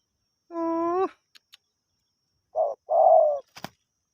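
A spotted dove coos nearby: one long, steady call, a pause, then two shorter coos close together, with a few faint clicks around them.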